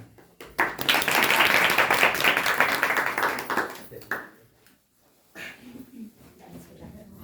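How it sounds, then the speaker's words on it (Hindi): An audience claps for a student called up to speak at an education event: a dense burst of applause that builds quickly, holds for a few seconds, then tapers off into near silence with a few stray sounds. "तालियां।"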